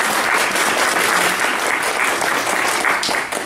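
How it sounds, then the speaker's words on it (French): A loud, dense burst of audience applause for the trainees of a university governance training cohort, many hands clapping steadily and close for several seconds. "On peut les applaudir, s'il vous plaît"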